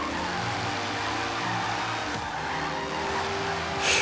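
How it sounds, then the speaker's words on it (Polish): A BMW in Forza Horizon 3 slides through a drift, its engine droning loudly under a continuous hiss of squealing tires that surges briefly near the end. "ta BMW-ka ma mnożnik jakiś do driftów, możemy robić nim takie arabskie ślizgi"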